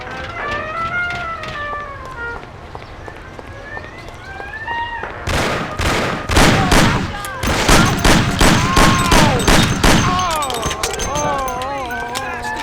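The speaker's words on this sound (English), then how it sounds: "it's shooting here!" Rapid gunfire in the game Mafia 1 erupts after several seconds of tense voices: a dense run of loud, closely spaced shots while shouting voices continue over and between them.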